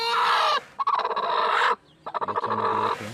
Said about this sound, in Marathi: आपल्या कोंबड्या पण आता उभवण्यावर बसलेल्या आहेत.